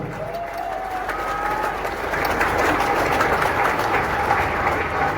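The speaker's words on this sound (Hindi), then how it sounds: "जो शर्मा रहे वो भी एक बार तालियां बजा लो भैया।" Many hands applaud at a seminar in Ayodhya's Savitri Marriage Hall, a continuous crowd clapping that steps up in loudness partway through and then holds steady, with no speech over it.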